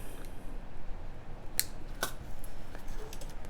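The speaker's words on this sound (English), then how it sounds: "trim our wire" Two crisp snips of jewelry wire cutters trimming wire for earrings, sharp isolated clicks about half a second apart, close and clear over a quiet room hiss.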